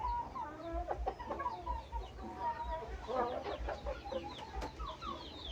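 Several young Burmese gamecocks and hens, four to five months old, cluck and chatter continuously at close range, with short squawks scattered throughout over a low background hum.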